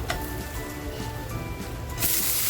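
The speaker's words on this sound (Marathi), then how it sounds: "आपल्याला एक बाजू छान शेकून घ्यायची आहे म्हणजे लालसर करून घ्यायची आहे" A crispy, lacy fasting dosa sizzles as it roasts on a hot pan, a steady close hiss that swells louder for the last half-second.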